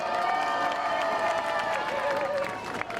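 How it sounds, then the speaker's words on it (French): A crowd at an outdoor march cheers and claps, a continuous roar of applause with raised voices and some whistling tones, moderately loud and steady throughout. "Je vous demande un tonnerre d'applaudissements."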